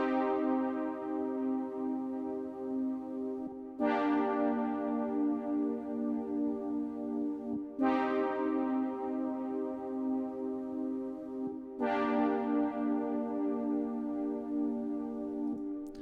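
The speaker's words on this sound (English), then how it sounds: "make an interesting retro horn synth sound in" A retro lo-fi horn synth patch built from Ableton stock plugins plays four long, sustained brassy chords, each starting with a bright attack and fading slightly, evenly spaced, soft and alone.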